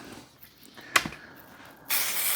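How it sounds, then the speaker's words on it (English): A can of generic silicone spray sounds off in a loud, steady broadband hiss that starts abruptly and keeps going to the end, after a short sharp knock and some quiet handling noises. "This is silicone spray."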